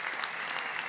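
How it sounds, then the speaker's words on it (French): An audience claps together in a steady, even wash of applause at a televised French interview with robotics researchers, moderately close and without talk over it. "on peut les applaudir"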